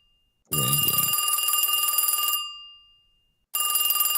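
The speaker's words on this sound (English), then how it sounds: "I used like an old school ringing thing" Old-school telephone ring, loud and close, with a bright metallic bell tone buzzing for about two seconds, fading out, then starting again after a short silence; a brief low thump comes at the start.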